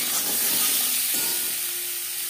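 Boiled potatoes frying in hot oil in a pan for an Alu mutton curry, a steady steamy sizzle and hiss that stays close and even throughout, with no talking.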